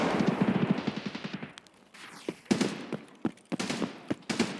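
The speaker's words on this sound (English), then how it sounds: "I hear and see a scav and a whole bunch of loud big gun shooting" Loud bursts of heavy gunfire in Escape From Tarkov near the Customs dorms, a rapid automatic stream at first, then separate sharp shots and short bursts echoing at mid distance.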